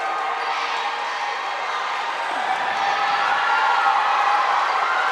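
Restless crowd noise in a high school basketball gym during a Knott Central versus Letcher Central game, a steady loud murmur of voices and scattered shouts that swells slightly toward the end.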